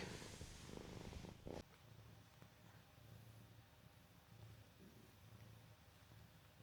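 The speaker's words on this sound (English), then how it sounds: "Someone's purring." A cat purrs softly and steadily up close, a low rhythmic rumble pulsing with each breath after a brief rustle at the start.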